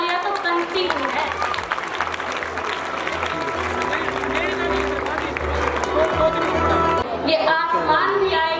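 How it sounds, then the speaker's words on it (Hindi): At a school annual function, an audience applauds the teachers, with clapping mixed into crowd chatter and music, while voices and sung tones rise over it near the end. "हमारे सभी टीचर्स के लिए जोरदार तालियां तो बनती ही है"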